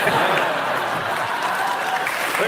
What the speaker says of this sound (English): Yeah, they're cheering.